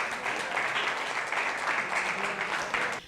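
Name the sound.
audience applause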